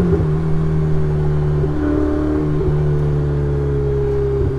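A Ferrari 488 Spider on a mountain drive, its engine held at high revs with a loud, steady droning tone and strong harmonics from inside the car, with no speech.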